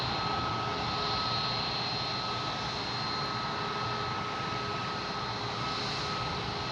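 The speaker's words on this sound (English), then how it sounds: "we have this Alaskan Airlines in the alley here, making the racket" An Alaska Airlines jet sits on a taxiway at Boston Logan International Airport, its engines holding a loud, steady roar with a faint whine, continuous and unbroken.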